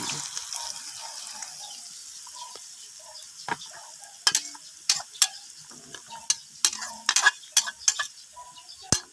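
Bamboo shoots for adobo are stirred in a hot pan, a soft sizzle underneath and sharp clicks and scrapes of the utensil against the pan growing busier toward the end.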